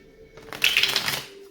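A quick burst of tarot card shuffling, a riffle of crisp papery flutters lasting about a second, close and fairly loud, with no talk.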